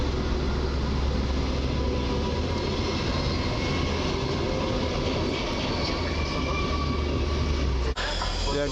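An EP07 electric locomotive pulls a train into a platform at Warszawa Zachodnia station, a loud, steady rumbling roar of rolling wheels and motors that fills the whole stretch before an abrupt drop near the end.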